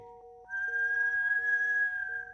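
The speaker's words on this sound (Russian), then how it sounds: "Итак, вдох со свистом," A whistling inhale through pursed lips during a breathing exercise: one steady, sustained whistle tone that starts after a short pause and holds for about two seconds over soft background music.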